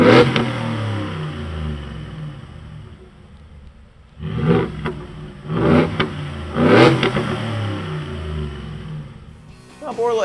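A Ford F150 fitted with a Borla S-Type cat-back exhaust idles with a deep rumble, then revs up three times in swelling roars that fall back to idle, with a final blip at the end.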